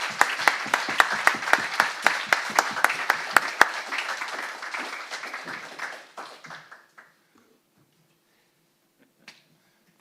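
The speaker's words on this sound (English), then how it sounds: "can you please give him a big round of applause?" An audience claps at a closing-remarks event, sharp distinct claps at first that thin out and fade to near silence after about seven seconds.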